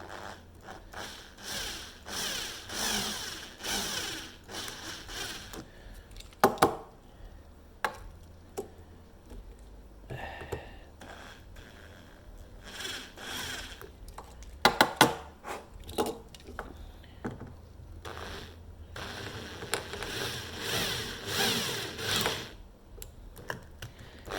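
A small drill bit grinds out a rivet on a Hot Wheels die-cast toy car in repeated short, scratchy bursts with pauses and a few sharp clicks, close and fairly quiet.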